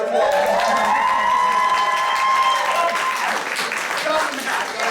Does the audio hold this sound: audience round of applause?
yes